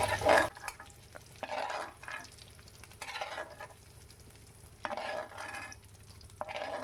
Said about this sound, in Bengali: আমি আলুটাকে ভেজে নিচ্ছি